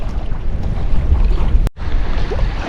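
Steady wind roars and buffets the microphone outdoors by a river while fishing, a constant rushing noise with one brief dropout partway through.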